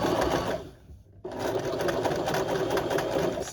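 Sewing machine running steadily while stitching through the seam allowance of a crotch seam; a close, continuous whirring hum with a brief pause before it resumes.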